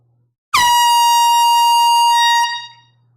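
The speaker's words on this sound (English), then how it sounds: "about to blow the air horn" A single loud air horn blast sounds for about two seconds, a harsh sustained blare that cuts off abruptly, with silence before and after.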